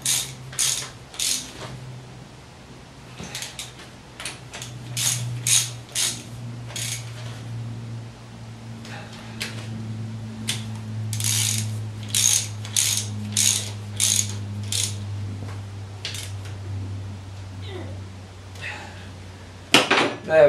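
Bolts on a reconditioned Nuffield tractor steering box, clamped down, are tightened with a ratchet: bursts of rapid clicking repeat again and again over a low steady hum, close and fairly loud.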